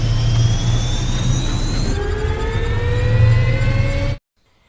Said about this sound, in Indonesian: si agen ini menghidupkan mesin pesawat raksasa yang siap mencincangnya